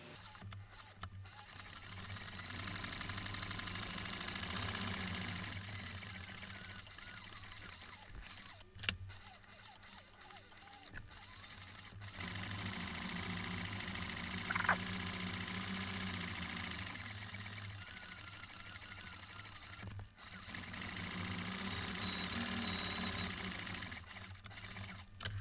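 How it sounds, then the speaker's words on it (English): A sewing machine stitching a leather briefcase runs in a steady mechanical drone for long stretches, stopping briefly between passes, close by with no talking. "now we'll sew this on the machine and we'll be just about done"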